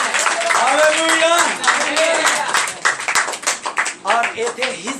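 A church congregation claps at a sermon, with bursts of hand claps mixed under a loud voice speaking throughout.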